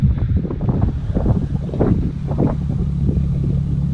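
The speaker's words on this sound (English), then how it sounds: "Sorry for the wind in Arizona." Strong Arizona wind gusts outdoors in a dust storm, buffeting the microphone with loud low rumbling roars that rise and fall throughout, no talk over it.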